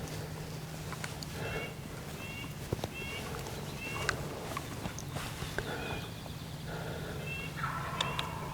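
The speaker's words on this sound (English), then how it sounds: "That's a good sign that bird's still gobbling past 8 o'clock." A wild turkey gobbles repeatedly at a distance in thick woodland cover during a hunt, the bursts rising over a steady outdoor background with occasional rustles and soft knocks.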